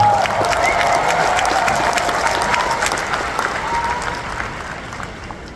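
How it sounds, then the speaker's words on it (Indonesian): Loud, sustained audience applause fills a hall during a Gerindra party leader's speech, with broad clapping and some cheering that holds steady before tapering slightly toward the end. "belum selesai udah tepuk tangannya"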